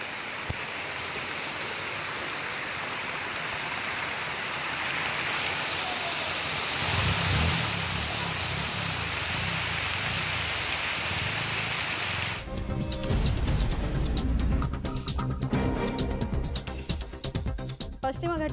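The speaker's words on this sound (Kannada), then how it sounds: "ಪಶ್ಚಿಮ ಘಟ್ಟ ತಪ್ಪಲು ಪ್ರದೇಶದಲ್ಲೂ ಕೂಡ ಭಾರಿ ಮಳೆ ಆಗ್ತಾ ಇದೆ." Heavy monsoon rain in the Western Ghats foothills near Kukke Subrahmanya, a steady dense hiss of falling water and runoff, loud and continuous throughout, with a brief shift in texture partway through.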